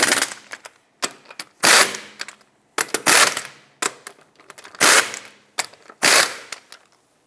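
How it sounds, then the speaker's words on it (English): Ratcheting torque wrench tightening the rear lug nuts on a Jeep Compass to 100 foot-pounds, about six loud bursts of rapid clicking separated by short pauses, close up. "in a cross pattern, torque them to 100 foot-pounds"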